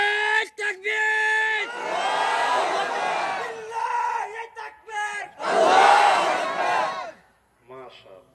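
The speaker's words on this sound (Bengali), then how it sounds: "জোরে সোরে একজন আল্লাহর নামে তাকবীর দিতে পারবেন?" A single audience member at an Islamic sermon gathering shouts a loud, drawn-out takbir, with a crowd responding in a swelling collective roar before the sound drops away.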